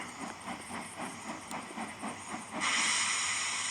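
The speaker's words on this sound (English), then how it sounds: "The day's work was done, and the engines puffed safely home." Steam engines puffing home at night, a soft rhythmic chuff under a faint hiss that gives way to a louder, steady rush of steam near the end.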